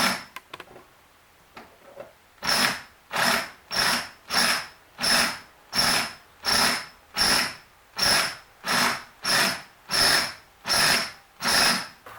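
A power drill bores out the seat fasteners on an Ozark Trails Pro Angler 12 fishing kayak, sounding as a long run of evenly spaced, loud buzzing bursts after a few faint clicks.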